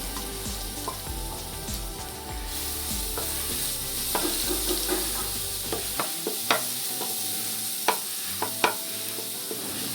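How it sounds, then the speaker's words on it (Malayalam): Ginger garlic paste sizzles and fries in coconut oil left over from frying fish, a steady loud crackle with occasional sharp pops and spoon stirring scrapes. "മീൻ പൊരിച്ചതിന് ശേഷം നമുക്ക് ഈ സെയിം വെളിച്ചെണ്ണയിലേക്ക് തന്നെ ഒരു വലിയ സ്പൂൺ ഇഞ്ചി വെളുത്തുള്ളി പേസ്റ്റ് ഇട്ട് കൊടുക്കണം"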